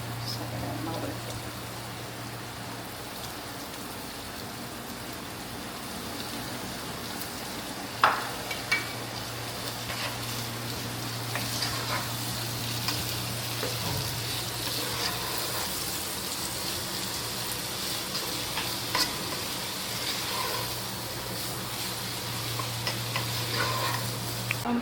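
Chopped onions frying in plenty of oil for Kuttanadan duck curry give off a quiet, steady sizzle, with a constant low hum underneath and occasional sharp clicks of stirring throughout.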